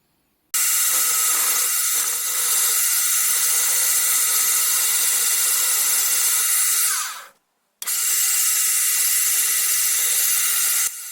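Drill boring outlet ports through a metal lathe spindle valve body held in a vice, a steady loud high-pitched whine running continuously, cutting out briefly near the end before resuming.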